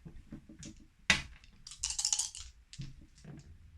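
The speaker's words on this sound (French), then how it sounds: "La maman, elle lance 3 dés." Three dice clatter and tumble across a surface in a quick burst of clicks and knocks, with a sharp rattle midway. No one speaks.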